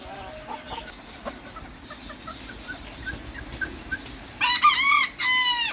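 Soft clucking and rustling, then a six-month-old rooster gives two crowing calls near the end, the second trailing off.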